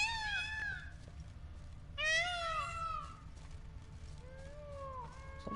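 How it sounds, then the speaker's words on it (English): A cat in The Witcher 3: Blood and Wine game meows several times, two clear, drawn-out calls followed by a softer, lower one over faint ambient game background. "Sounds like a cat."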